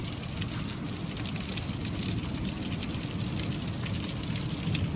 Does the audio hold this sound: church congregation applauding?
no